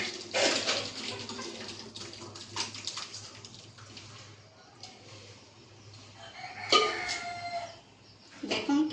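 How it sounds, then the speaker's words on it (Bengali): Cooked dal with fish head, a murighonto dish, is poured from a pot into a pan, a steady wet pouring and sloshing with a brief louder splash near the end. "এখানে আমি ডালটাকে ঢেলে নিচ্ছি"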